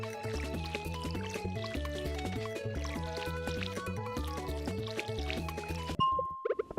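Watering plants in the video game Stardew Valley gives soft liquid splashes and pours under bright, rhythmic game music, which stops abruptly near the end.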